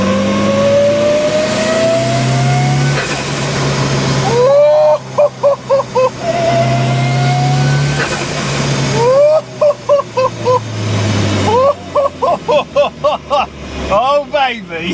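An Evo 2 car with a swapped-in Evo 7 engine revs hard and close in a series of sharp, rapid throttle blips that climb and cut off in stuttering bursts. A voice is also heard in the clip.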